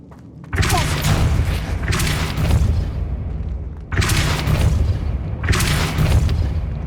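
A fire spell cast in a Harry Potter video game, sounding as three loud, rumbling whooshing bursts that each roar on for a second or more, with steady game noise between them.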